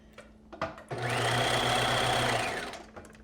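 A sewing machine stitches the hem of a knit pencil skirt, starting with a few clicks and then running in a steady, close, whirring hum for about two seconds before winding down.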